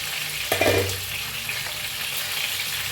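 Stuffed green chillies stirred and turned in a hot pan after steaming under a lid, giving a constant hissing sizzle with one brief clatter of the utensil near the start.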